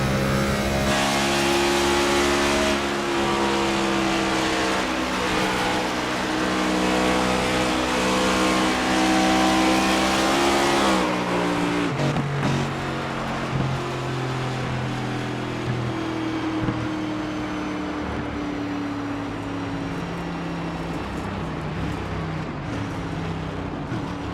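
A race car engine at Dover roars steadily through an on-board lap, its pitch climbing through the gears, then dropping abruptly and building again, loud and continuous with no voices over it.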